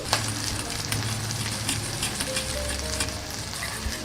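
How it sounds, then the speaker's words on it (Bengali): Sauces and vinegar are stirred together in a hot pan, with a steady sizzle and scraping stir strokes that carry on throughout at close range, and no talking. "প্রথমে সসগুলোকে ভালো করে মিক্স করে নিই।"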